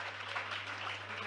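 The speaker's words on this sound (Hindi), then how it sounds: "एक बार तालियों की गड़गड़ाहट के साथ इन युवा लोगों का सम्मान करते हैं" An audience at a Jain religious question-and-answer gathering applauds to honour young people, a steady, even wash of clapping from a crowd heard at moderate distance over a low constant hum.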